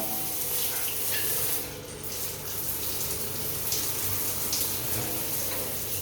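Steady stream of water running from a tap in a condo bathroom during an inspection, a continuous broadband rush with no talking, holding level throughout.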